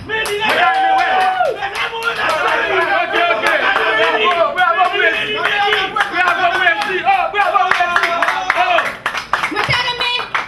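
A crowd at a gathering claps hands in a lively, uneven rhythm, with many voices talking and chattering over the clapping throughout.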